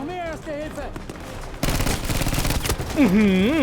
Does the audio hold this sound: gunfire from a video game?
yes